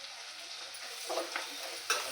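Rice and chopped coriander being stirred and fried in a pan for fried rice, a soft, quiet sizzle with faint scraping strokes toward the end, no voices.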